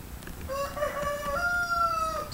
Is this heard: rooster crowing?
yes